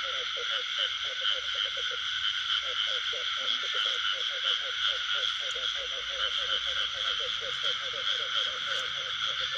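Field frogs croak at night in a paddy after rain, a rapid, rhythmic chorus of pulsing calls that runs throughout under a constant high insect drone.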